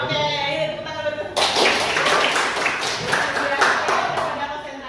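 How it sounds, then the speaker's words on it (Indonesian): A classroom of students claps hands together in a biology lesson, a dense burst of many hands starting after a short stretch of talk and continuing steadily and loudly to the end, with voices mixed in. "ini tepuk tangan dulu"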